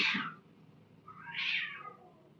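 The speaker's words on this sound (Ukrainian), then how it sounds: "це коти." Two cats meow on a balcony, a loud close meow at the start followed by a second drawn-out call about a second later, with no talking over them.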